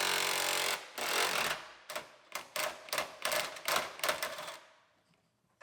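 A ratchet with an extension, swivel and 12mm socket clicks while removing hood hinge bolts on a Kia Sorento, giving several loud bursts of rapid ratcheting clatter with short pauses between, then trailing off to quiet.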